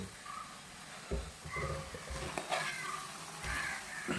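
A cat gives several short meows at intervals over faint background noise.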